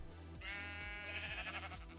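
A Minecraft sheep in the Java game bleats in a long, wavering synthetic baa, clear and alone against a faint steady background.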